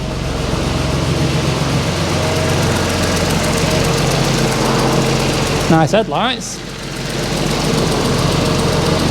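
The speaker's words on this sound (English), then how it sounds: "it all sounds okay. Obviously I can't let it run too long" A steady engine of a salvage auction car idles with a low rumble throughout, a voice briefly speaking over it, followed by a short whooshing sweep near the end.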